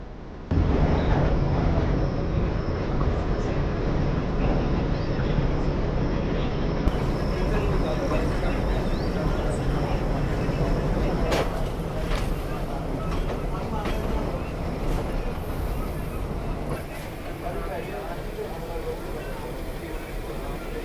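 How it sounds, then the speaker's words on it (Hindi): A Bhakra Railways train pulls out of Nangal station, a steady loud rumble of wheels and running gear holding throughout with faint higher clanks, while someone talks over it. "यहाँ से डिपार्चर लेती हुई अपनी ट्रेन, एक शानदार ट्रेन"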